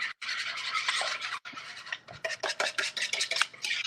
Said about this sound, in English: I'm going to give that a quick whisk.